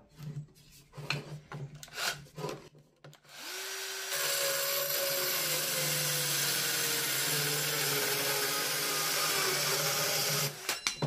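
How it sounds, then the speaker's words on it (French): After some scattered handling noises, a Bosch GKS 12V-26 cordless circular saw starts up and cuts steadily for several seconds with a loud, strained whine, then stops. "La lame a l'air, enfin la scie a l'air de forcer un peu quand même."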